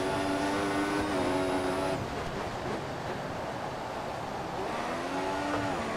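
Formula One race car engine from the F1 2014 racing game, a loud, steady high-pitched whine with a rising and falling rev pitch that holds throughout, running under no talk.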